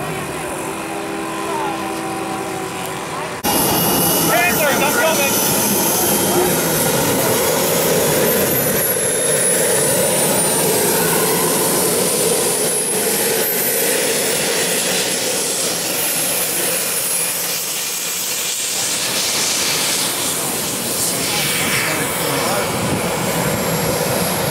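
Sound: B-25 aircraft engine at an air show

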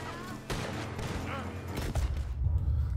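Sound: gunfire in a video game, Marlboro Man Simulator

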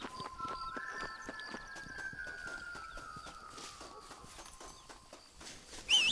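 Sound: horse hooves in video game

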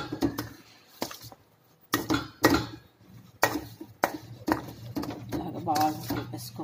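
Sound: stirring ragi flour dough in a pot

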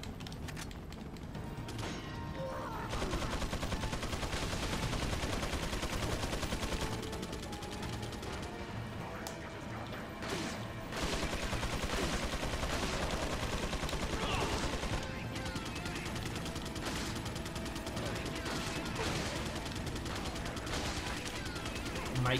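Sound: gunfire from Mike's helicopter in video game Resident Evil 4

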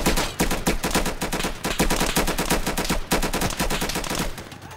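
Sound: gunfire in the video game Insurgency

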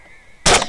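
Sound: rifle gunshot, Hornady SST 6.5 Grendel ammo, hog hunt

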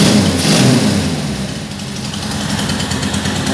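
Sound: Riva 600 engine idling, firing only the second and third cylinders

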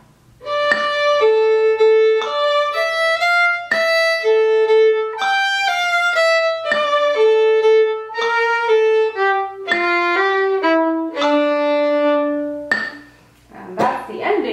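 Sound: fiddle playing the B part ending of a tune

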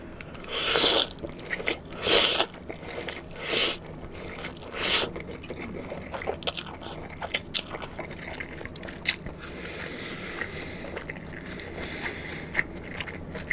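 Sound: eating Korean BBQ pork belly and spicy Buldak noodles

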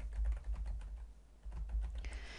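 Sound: typing a query name on computer keyboard

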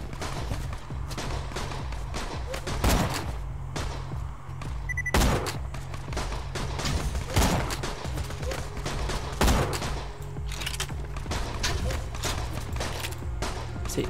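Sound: sniper rifle gunfire in video game Borderlands 2

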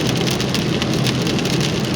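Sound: heavy rain on the road

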